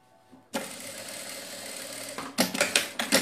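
Close and clear, a sewing machine stitches the seam of a fabric bag in one steady run of nearly two seconds, then a quick series of short, choppy bursts.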